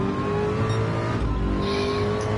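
Race car engine in a VR Le Mans racing game, revving high at speed, a loud, continuous whine that rises and shifts briefly. The engine is heard alone, with no talking.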